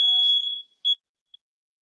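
A home smoke alarm sounds indoors: one long shrill beep, then a shorter chirp and a faint final blip, loud and close with no talking.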